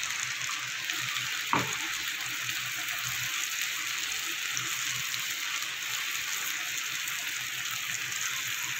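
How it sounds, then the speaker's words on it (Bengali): Poppy seed paste and a splash of water go into a hot pan, giving a steady, even sizzling hiss throughout with one brief clack near the start. "এবার দিয়ে দেবো পোস্ত বাটাটা। সামান্য একটু জল দিয়ে দেবো।"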